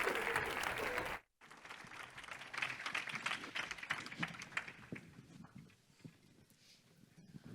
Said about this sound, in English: Please give them a round of applause as they join the stage.